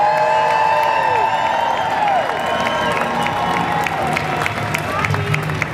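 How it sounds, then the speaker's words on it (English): An audience at an art event in San Francisco claps and cheers throughout, with whoops and shouting voices riding over a dense, sustained wall of applause that eases off slightly toward the end. "can we get a round of applause for Dorka Keene and Brian Goggin?"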